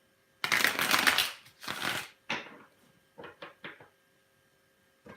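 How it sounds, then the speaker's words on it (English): Cards are shuffled in a long riffle, then a few shorter bursts and scattered taps, close and crisp with quiet gaps between. "For CC Queen, one last shuffle."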